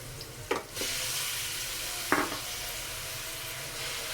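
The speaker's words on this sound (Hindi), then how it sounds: "चिकन को आपने अच्छी तरह फ्राई करना है।" Chicken pieces fry with sautéed onions in a pan, giving a soft, steady sizzle broken by two brief scraping stirs.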